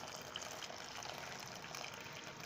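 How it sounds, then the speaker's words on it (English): Boiling water is poured from close by into a bowl of jello mix, a steady, soft gushing stream that runs unbroken and fairly faint throughout. "Then take your boiling water"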